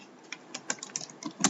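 Light, sparse keystrokes on a computer keyboard as a short string is typed, a handful of distinct clicks at an uneven pace, close and fairly quiet.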